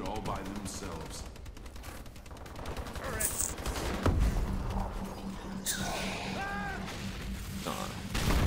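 Automatic turret gunfire in a video game, rapid shots rattling through the whole stretch amid dense game noise, with voices talking over it at times.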